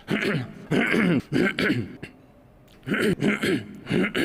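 A series of harsh, throaty coughs from someone comes in close bursts, with a brief quiet gap midway before more coughing.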